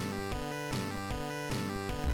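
Dense, loud music with heavy booming drum hits and layered tones, a steady driving beat throughout with no talking.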